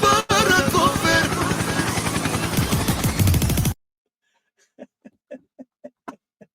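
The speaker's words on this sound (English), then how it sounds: "Helicopter, helicopter." Helicopter noise, a loud, close, pulsing roar that stops abruptly after a few seconds, followed by a series of faint, quick clicks in near silence.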